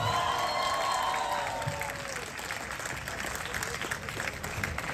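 Loud crowd applause and cheering greet Hasnain Abbas as he is introduced at an MBBS welcome party; the clapping fills the whole stretch, with a fading tone at the start and some crowd voices mixed in.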